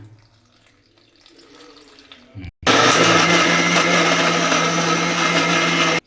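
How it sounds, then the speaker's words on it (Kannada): Mixer grinder blending masala with chili powder and water for a village-style fish curry: after quiet kitchen sounds and a brief clunk, the motor kicks in with a loud, steady whirring roar that runs without a break until it cuts off. "ಸ್ವಲ್ಪ ನೀರು ಹಾಕ್ಕೊಂಡು ರುಬ್ಕೊಳ್ಳೋಣ"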